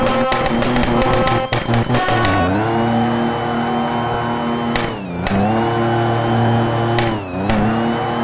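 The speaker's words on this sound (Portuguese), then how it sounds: "Tá catando muito pneu, velho. Muito pneu." An 800 hp Fiat Uno on a quarter-mile run, loud and close, revving hard through repeated gear changes with rising and dipping engine pitch, tires spinning as it accelerates.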